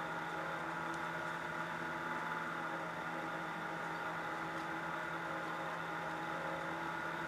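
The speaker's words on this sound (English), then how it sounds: "fan on the laptop." A laptop's cooling fan whirs in a constant, even hiss with a faint steady hum underneath, close and unbroken throughout with no talking.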